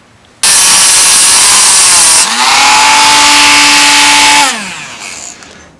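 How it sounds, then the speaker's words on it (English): A small Dremel rotary cut-off tool bites into a metal gooseneck handlebar part on an Ingo bike, a loud, close high-pitched whine that spins up abruptly, drops in pitch under load while cutting, then winds down. "Get the little Dremel tool going."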